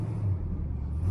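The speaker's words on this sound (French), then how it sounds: "Du vrai V8 à l'américaine" Big-block Mopar V8 in a Plymouth Fury A38 police car idling steadily outdoors in the rain, a deep continuous low rumble with no speech.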